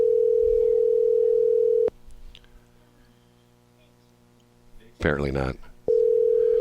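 Telephone line tone while calling a number: a steady, loud electronic tone holds, cuts off into near silence, a short voice speaks, then the tone returns.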